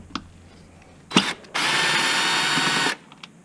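Power drill backing out air filter screws on a Honda Accord during a tune-up, a few clicks and handling knocks followed by a steady close whir of about one and a half seconds.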